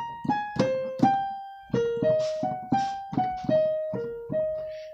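Piano plays the intro: a halting sequence of about a dozen separate notes and chords with a dissonant edge, each struck and left to decay, close and clear with no voice.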